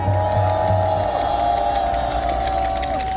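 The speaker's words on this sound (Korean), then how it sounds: "여러분 다시 한번 큰 박수와 한성 부탁드립니다" An outdoor candlelight rally audience in Seoul applauds and cheers after a musical performance, a continuous loud roar of clapping and voices with a steady tone held underneath throughout.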